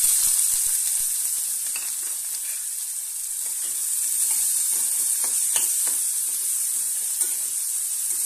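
Chopped onion fries with cumin seeds in hot oil, giving a steady, bright sizzle and hiss throughout. Faint pops and crackles come through close by, with no talking.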